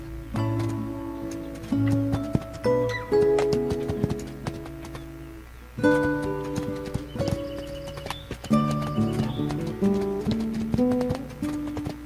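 Horse hooves clip-clopping in a video game, a steady rhythmic trot of close hoofbeats under tonal game music, with a whinny in the mix.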